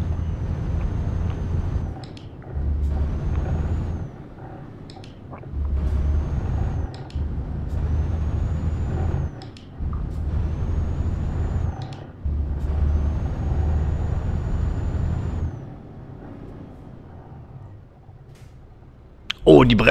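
Air brakes on a truck in Euro Truck Simulator 2 hiss in repeated bursts over a steady low engine rumble, the loud releases spaced every couple of seconds across the drive.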